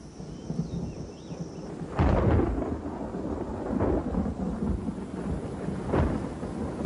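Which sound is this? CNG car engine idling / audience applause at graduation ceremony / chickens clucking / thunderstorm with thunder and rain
thunderstorm with thunder and rain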